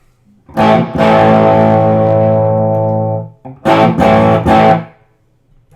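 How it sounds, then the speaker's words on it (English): A sustained electric guitar chord through a BluGuitar Amp1 amplifier rings out with a reverberant tail, followed by a few quick strummed chords that echo briefly. "I'll give you a quick demo of reverb here."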